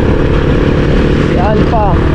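A Yamaha Mio MX scooter drones steadily underneath as it is ridden, with a rider's voice speaking over the engine noise throughout.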